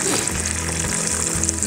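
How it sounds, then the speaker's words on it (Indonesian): Red and bird's-eye chilies, shallots, garlic and tomato fry in hot oil for sambal, a loud, close, steady sizzle and crackle with faint stirring underneath. "langkah terakhir tinggal kita goreng dulu ini cabainya"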